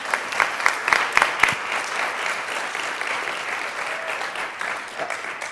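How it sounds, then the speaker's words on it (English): An audience at a digital journalism meetup gives a round of applause. The clapping is dense and lively, with sharp individual claps at first, then it settles into a softer, even patter. "Can we just have a round of applause?"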